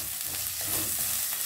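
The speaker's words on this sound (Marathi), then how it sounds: "ह्या लसणाच्या कळ्या हे आता आपल्याला 1-2 मिनिटापर्यंत परतून घ्यायचं आहे" Garlic cloves sautéing in a pan for a couple of minutes, giving a steady, close, gentle sizzle with faint stirring scrapes and no talking.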